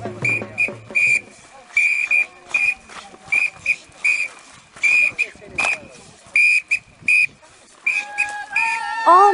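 A shrill whistle blows in short repeated bursts with a rhythmic pattern, setting the tempo for Koochi nomad dancing, sounding alone with brief gaps between blasts.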